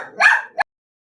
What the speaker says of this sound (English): we're just listening to the dog bark